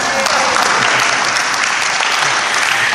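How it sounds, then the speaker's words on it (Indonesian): Brisk audience applause at a church gathering on the Gospel of Matthew, dense, even clapping filling the whole moment without pause. "Tepuk tangan."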